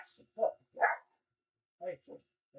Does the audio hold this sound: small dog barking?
yes